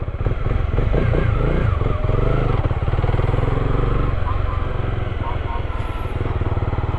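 A motorcycle engine runs steadily and loud throughout, with a rough, pulsing idle and some mechanical clatter.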